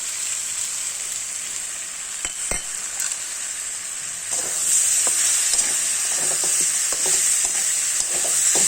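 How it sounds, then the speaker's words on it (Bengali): Fried prawns go into a sizzling pan of curry, with a steady frying hiss that swells louder partway through and brief scraping knocks of stirring, with no talking. "ভাজা চিংড়ি মাছগুলো দিয়ে দিলাম"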